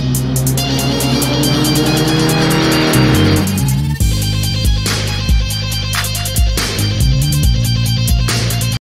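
Loud car engine revving hard through gear changes, with high-pitched whining acceleration, sharp drops at each shift and repeated surging revs, like a racing car, opening a rap battle with no talking.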